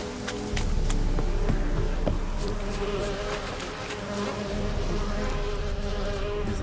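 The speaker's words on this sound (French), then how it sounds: "Des abeilles." Bees buzzing in a video game, a steady droning insect hum with faint clicks and thin higher tones, fairly loud and continuous with no talk.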